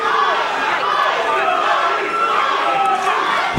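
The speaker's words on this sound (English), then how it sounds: "And this crowd, there's no love lost for Joey Ryan" A packed crowd at a singles wrestling match shouts and jeers continuously, a dense, loud roar of many voices with no pauses, close and filling the room.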